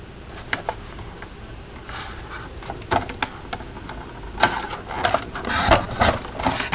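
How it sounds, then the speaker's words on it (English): Small pieces of card paper being cut for a handmade Christmas wreath door card, a series of close, crisp snips and clicks in irregular rhythm against a quiet background. "cutting all these small pieces can be a little tedious"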